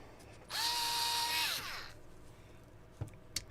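A power tool whirs up and runs for about a second, a loud high whine that winds down, followed by quiet and a couple of sharp clicks while loosening the sliders on a model.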